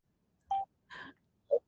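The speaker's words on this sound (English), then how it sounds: "let me get some people on the phone for you guys" Three separate telephone dialing tones, short and evenly spaced beeps in an otherwise quiet room.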